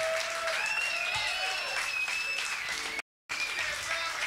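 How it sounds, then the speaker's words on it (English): Audience at a live 1985 Chicago blues concert in Baltimore applauds steadily, a dense wash of clapping with a few whistles rising over it, broken by a brief cut before the applause resumes. "Give yourselves a nice round of applause."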